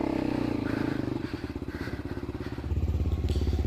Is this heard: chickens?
no